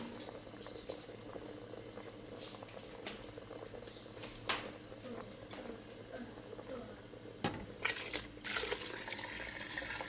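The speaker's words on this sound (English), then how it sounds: "I'm going to add my coconut milk inside here." Coconut milk goes into a pot of cooking peas for Jamaican rice and peas, bringing a faint, continuous bubbling and simmering with soft liquid splashes and a few clinks near the end.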